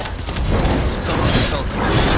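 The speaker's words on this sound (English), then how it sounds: "Turret activated. Assault turret activated." An assault turret activates in the video game The First Descendant, a steady mechanical whirring and creaking lasting about two seconds at fairly even loudness.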